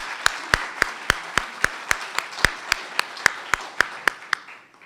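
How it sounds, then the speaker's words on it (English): An audience at a women's health conference applauds patients and patient advocates, a fairly sparse round of claps in a steady rhythm with a few loud close hands standing out, tapering off at the end. "please help me give them a round of applause to all our patients and patient advocates"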